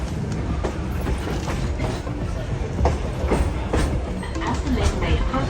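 Kuranda scenic railway train near Cairns, Australia, running steadily on its rails with a continuous rumble and rhythmic clickety-clack of wheels over joints, loud and close, with voices talking over it.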